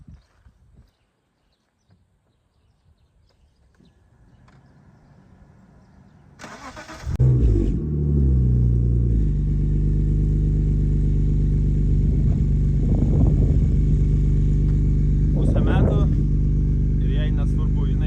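A BMW E34 with an M54 B25 engine, cold air intake and LSD, starts up after near silence and settles into a loud, steady, close engine drone with occasional revving swells.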